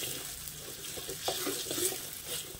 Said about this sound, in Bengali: হালকা আছে একটু ভালো করে ভেজে নেবো, একটু সময় দেবো।